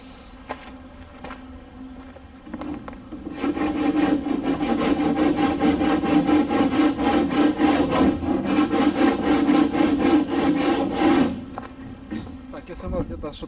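A coarse hand file rasps across a piece of OSB board in a rapid back-and-forth rhythm, loud and close for about eight seconds, while someone talks before and after the filing.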